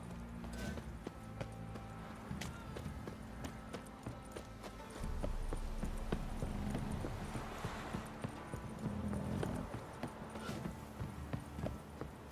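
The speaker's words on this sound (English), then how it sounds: "Time to water the horses." Horse hooves clip-clop at a steady trotting rhythm in The Witcher 3 video game, close and clear under ambient game sound, with the pace and intensity shifting partway through.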